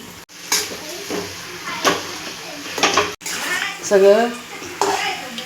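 A spoon scraping and stirring mashed potato filling for vada pav in a pan, intermittent scrapes and soft knocks while someone talks over it.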